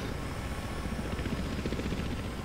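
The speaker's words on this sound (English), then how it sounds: "Helicopter! Just getting helicopter." Helicopter in the Battlefield Hardline video game, its rotor thumping as a steady, loud, continuous drone with no talk over it.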